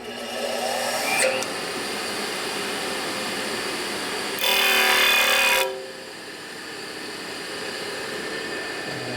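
Grinding on a valve during a 1974 74ci Harley shovelhead valve job: a steady machine whine runs throughout, with one brief, louder grinding burst of about a second in the middle.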